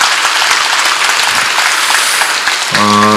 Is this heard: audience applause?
yes